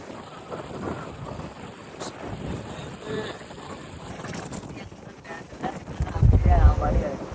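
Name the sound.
wind blowing on a fishing boat at sea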